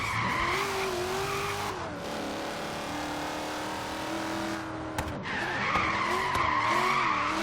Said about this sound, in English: Hopefully we can be drifting in second gear now.